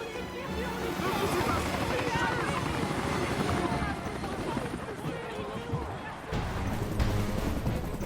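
Helicopter in the video game Resident Evil 2, its rotor thrum droning steadily beneath ongoing speech and other in-game sounds.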